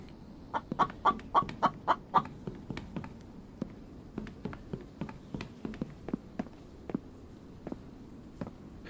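Clucking from a rock chicken hidden among rocks in a survival video game, with a burst of quick, loud clucks early on, then sparser, softer clucks mixed with footstep-like taps.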